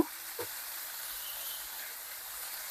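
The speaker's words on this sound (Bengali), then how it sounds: "হালকা করে এটাকে একটু নেড়ে ভেজে নেব" Water lily stems stir-fried in a pan give a steady, soft sizzle and hiss, with a few faint scrapes of stirring near the start and end.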